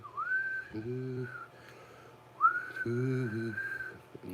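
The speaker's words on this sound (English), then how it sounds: "Can you hum and whistle at the same time?" A person whistles a rising, sustained note while humming low underneath it at the same time, in two separate phrases with a pause between them, close and moderately loud with no talking.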